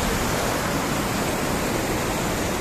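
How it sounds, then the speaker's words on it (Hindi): Loud, steady rushing water roars continuously at close range, like a strong outdoor flow or waterfall, with no other sounds breaking through. "ये देखिए पानी की आवाज़ आ रही होगी बहुत ज़ोर से"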